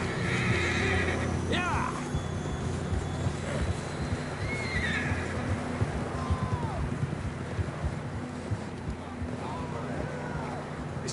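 Horses whinnying and clip-clopping hooves in the game Red Dead Redemption II, several neighs rising over steady hoofbeats and wind, with a voice shouting briefly.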